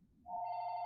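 A telephone rings loudly with a steady electronic tone that starts after a moment of low background murmur and holds unbroken to the end.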